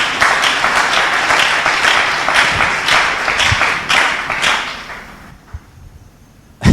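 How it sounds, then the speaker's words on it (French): A church congregation bursts into loud, sustained clapping that rolls on for several seconds, then fades to near silence with a few stray claps. "Acclamons la parole du Seigneur."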